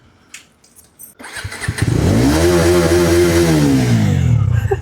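A motorcycle fitted with cruise control, on a Sunday ride, is revved at full throttle close by: after a second of quiet with faint clicks, the engine bursts into a loud, sustained roar that climbs and holds high revs.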